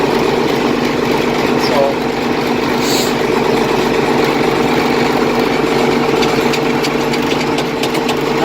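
An IH 1586 tractor idles close by after a cold start, giving off a steady low diesel rumble. The engine sound stays even, and a voice speaks briefly over it.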